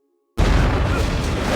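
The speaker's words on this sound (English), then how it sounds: "With an explosive ready, Ford detonates it, sacrificing himself and eradicating Waffner and the remaining mutants." Explosion in a WWII war movie, a sudden loud boom that bursts out after a moment of silence and then rumbles on heavily without fading.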